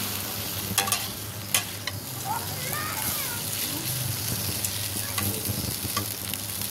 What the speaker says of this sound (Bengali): এবার একটু নাড়াচাড়া করে মশলার সাথে সুন্দর করে মিশিয়ে নেব।